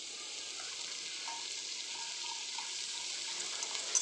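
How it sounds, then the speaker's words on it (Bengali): Sliced onion and chili fry in a pan for chire pulao, a soft, even, steady sizzle heard close and fairly quiet, with no voices. "এবারে এর মধ্যে দিচ্ছি টুকরো করে রাখা পেঁয়াজ আর লঙ্কা"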